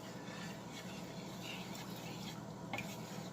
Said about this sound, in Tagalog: Haluin lang natin ang haluin.